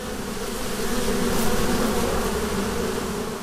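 Honeybees swarm around a beehive at an apiary in the Tišnov area, giving a steady, close, dense buzzing hum that holds constant throughout with no voices.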